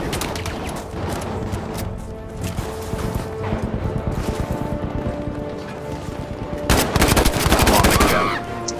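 Battlefield 5 gunfire rattles in rapid machine-gun bursts over a noisy battlefield, continuous and loud, with a heavier close volley near the end and voices faintly mixed in.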